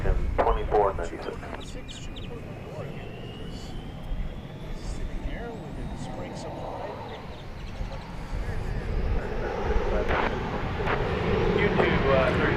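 An airliner at DFW Airport, brakes held, revs its engines and rolls for takeoff, a broad roaring rumble that swells over time, with voices talking over it.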